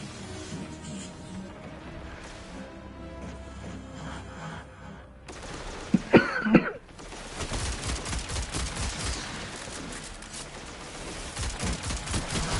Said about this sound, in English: Whoever's shooting out on the right, will you please stop it?